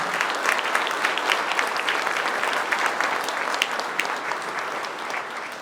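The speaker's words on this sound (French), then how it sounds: "je voudrais vraiment qu'on les applaudisse" An audience at a New Year's greetings ceremony applauds steadily and warmly, a dense patter of many hands clapping at an even level from start to finish with no talking.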